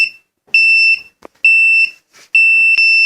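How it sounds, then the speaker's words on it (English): A fire alarm from a temperature sensor project beeps loudly in three evenly spaced bursts, each a piercing steady electronic tone lasting about a second, with brief quiet gaps and faint clicks between them. "The fire alarm is now on."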